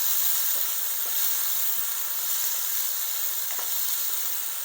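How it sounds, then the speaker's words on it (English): Callaloo vegetables fry in hot oil in a pan, giving a steady, close sizzle with a few faint clicks as they are stirred. "now that my pan is hot and the oil is hot, I will just put my vegetable in"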